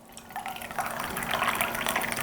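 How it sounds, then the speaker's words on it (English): Hot water poured into a cup in a kitchen, a close, steady trickling fill that grows slightly fuller as it goes. "so I'm adding 3/4 a cup of hot water, 1/4 cup of some cold water"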